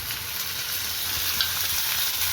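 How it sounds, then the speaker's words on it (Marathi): Chopped onion fries in a pan until brown, a steady close sizzle and crackle that holds even and unbroken, with no voices. "कांदा छान होऊ द्यायचा आहे आपल्याला, अगदी ब्राऊन कलरचा होऊ द्यायचा आहे."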